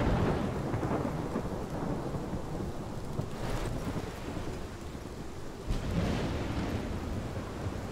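A heavy thunderstorm in the game Life Is Strange, with dense rain roaring throughout and two rolling thunder rumbles swelling through it, with no voices.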